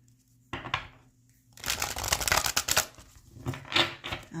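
Playing cards are shuffled nearby in quick riffling bursts, a short flutter followed by a longer, busier riffle and a final snap.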